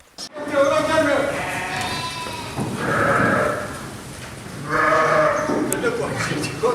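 A large flock of sheep kept by nomadic herders bleats in overlapping, wavering calls that rise in waves, close and loud, with someone speaking over them.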